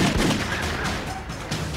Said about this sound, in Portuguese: O assassino recebe 3 tiros.